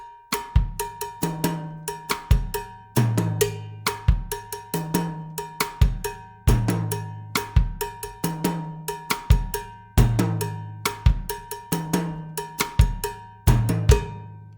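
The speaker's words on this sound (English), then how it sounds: "Now we put the bass drum, the snare, and the hi-hat in, and you have the whole thing that sounds something like this." A mambo bell pattern is played with bass drum, snare and hi-hat in a steady, looping groove. Bright, clanking bell strikes ride over low kick thumps and crisp snare and hat hits, loud and close, with no speech.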